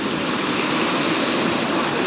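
Gentle sea waves wash onto a busy Black Sea beach on a hot summer day, a continuous soft roar of surf close by with no distinct breaks and no talk.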